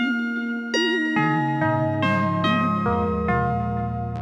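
A Casio CZ-101 synthesizer plays a descending run of bright, buzzy notes with pitch wobbles and sharp attacks, about a dozen tones in quick succession, clear and close with no voices.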